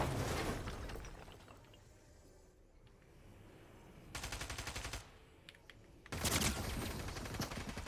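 Automatic gunfire in the Fortnite video game, with rapid rattling bursts of shots that start up, fade, then return loud at about the four and six second marks, sounding close, with no talking.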